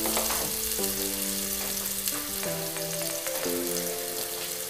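Onions sautéing in a pan for a Filipino vegetable stir-fry, a steady close sizzle with hissing crackle throughout, punctuated by scraping stirs and some tonal ringing from the pan, with no talking.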